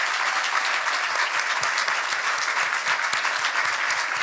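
Sustained, dense applause from a concert audience at a live show in a hall, steady and loud throughout with many overlapping claps and no break.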